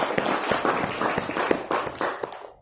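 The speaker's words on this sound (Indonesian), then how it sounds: "Tepuk tangan buat ibu semua." Audience clapping at a business talk, a steady patter of many hands heard at moderate distance that fades out at the end.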